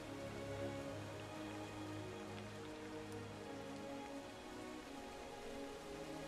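Continuous rain from the Blood Rain phase in the Diablo 4 video game, a soft, even patter on surfaces that stays faint and unchanging throughout, with nobody talking.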